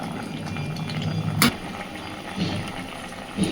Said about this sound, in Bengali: খুব ভালোভাবে একটু উল্টে পাল্টে মাছগুলোকে মিশিয়ে দিয়ে আরও মিনিট 5 এইভাবেই ফুটতে দেব